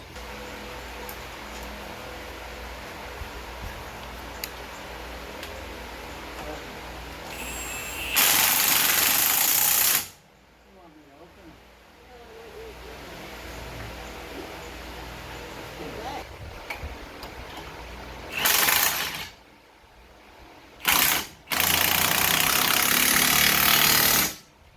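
A power tool drives bolts back into the front suspension of a Chrysler Town and Country minivan, with loud rattling bursts of a few seconds each over a quieter garage background.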